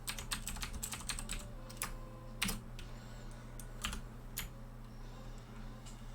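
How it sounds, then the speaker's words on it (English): Rapid keyboard typing on a computer keyboard, a run of sharp clicks with brief pauses, heard over a steady low hum from a racing game in the background. "I've gone quiet now. I'm typing."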